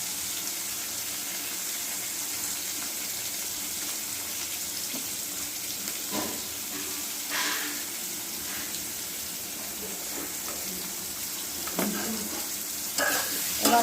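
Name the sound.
potatoes frying with salt and turmeric in a pan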